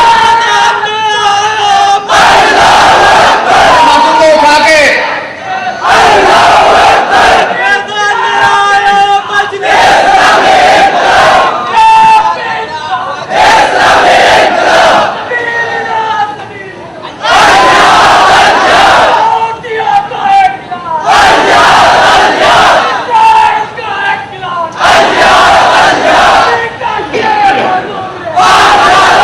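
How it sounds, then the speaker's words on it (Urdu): A large crowd at a religious rally shouts slogans in unison, loud rhythmic bursts of massed voices that answer a lone leader's call again and again, with brief pauses between the chants. "اگر سب مل کے آواز سے نعرے لگائے تو ایسے نعرہ لگائیں"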